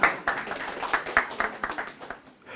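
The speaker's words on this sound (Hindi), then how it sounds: "फिर तालियां" An audience claps at a communication-skills talk in short, uneven bursts of hand claps that fade out after a couple of seconds.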